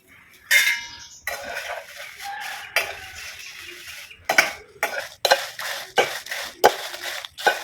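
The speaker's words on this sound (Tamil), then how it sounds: "இப்போ மிளகா வறுத்துக்கலாம்." Red chillies being dry-roasted in a pan, with irregular clattering scrapes and knocks of a utensil against the metal, some bursts loud and close, separated by short quiet gaps.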